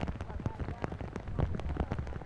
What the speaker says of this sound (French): Un lancement sous une pluie soutenue